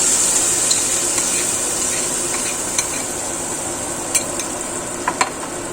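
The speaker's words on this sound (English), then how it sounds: "And you keep stirring." Chicken mole sauce stirred in a pot gives a steady, loud sizzling hiss with a few soft scraping clicks near the end, close by and without talk.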